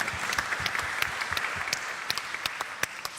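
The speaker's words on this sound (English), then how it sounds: "It's quite funny getting the claps for something like this" Thin, scattered audience applause at a climate politics forum: distinct individual claps pop out sharply over a softer wash of clapping, continuing without voices.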